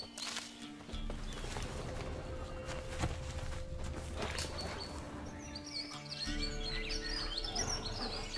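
A cuckoo calls in the forests of The Witcher 3: Wild Hunt, quiet chirping birdsong layered over footsteps and soft ambient game sounds.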